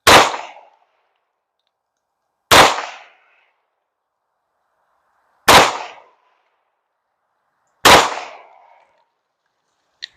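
Canik Rival pistol firing Winchester Silver Tip rounds, four loud sharp shots at an unhurried pace, each ringing out briefly before silence, with the start of a fifth at the end.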